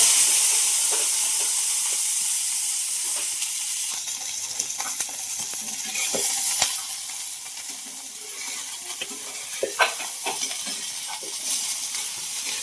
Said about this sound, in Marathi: मंद काय ते आचेवर ना आपल्याला तेलामध्ये फ्लावर थोडा पल परतून घ्यायचा